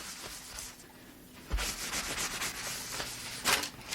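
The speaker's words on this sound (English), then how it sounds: "So if I come back with a towel now, just kind of rub it out." A towel rubbing soft pastel off a surface: a quiet start, then continuous scratchy back-and-forth rubbing strokes, close and fairly loud.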